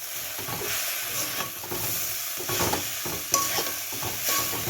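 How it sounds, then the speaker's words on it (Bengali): Chow mein being stirred with tomato sauce in a hot pan, with repeated scraping strokes over a steady sizzle and hiss, close and fairly loud with no talking. "টমেটো সস দিয়ে এটাকে এবার ভালো করে মিক্স করব"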